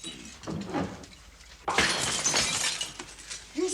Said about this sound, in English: You smash anything else in this house, Sunbeam, I'm gonna put you to sleep.